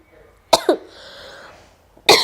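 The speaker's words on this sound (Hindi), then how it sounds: "इस वीडियो में न जाने कितनी बार मैंने खांस दिया है" A woman coughs indoors: two sharp coughs in quick succession, a short pause, then another loud cough, close and clear with no talking.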